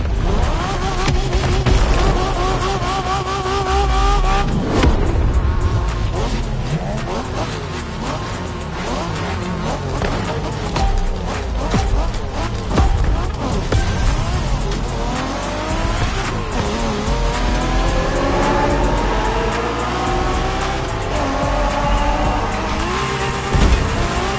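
A street-racing car in The Crew Motorfest video game revs hard and its tires squeal through corners, loud and continuous for over twenty seconds, with engine pitch rising and falling through gear changes and long skids.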